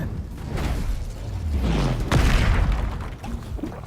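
Fiery Incendio spell blast from the Hogwarts Legacy video game, a sustained roaring whoosh with a sharp thudding burst midway, loud and close amid continuous game effects.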